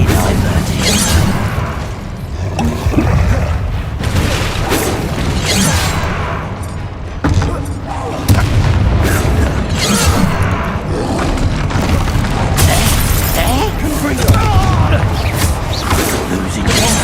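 Confringo blasting spells go off in Hogwarts Legacy gameplay, with repeated loud booms and crashes inside a dense, constant mix of combat noise and character voices.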